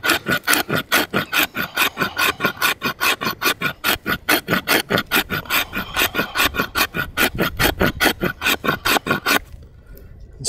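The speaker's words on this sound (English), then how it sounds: "let's use the scraper and see how it's gonna work." Bushcraft tool's scraper edge drawn repeatedly across wood, a fast regular rasping rhythm of about thirty close, crisp strokes that stop abruptly near the end.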